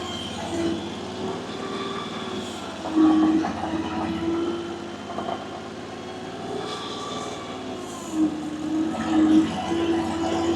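An AGT LRT23 Chinese mini skid steer drives backwards and forwards, its engine droning steadily nearby with a rising and falling tonal whine as the throttle changes.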